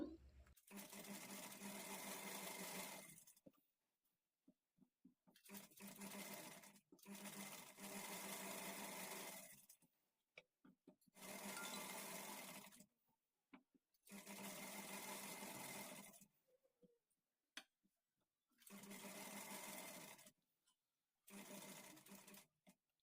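A sewing machine stitches the fall onto a saree edge in repeated loud, steady whirring bursts of a few seconds each, separated by short quiet pauses, close up.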